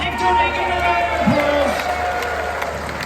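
Crowd noise at a festival with cheering and clapping rising in a lively room, voices and whoops mixed through the steady roar.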